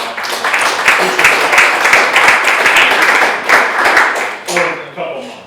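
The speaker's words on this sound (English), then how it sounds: "just a quick round of applause" A quick round of audience applause for elected officials at a legislative luncheon, dense close clapping that swells and tapers off near the end.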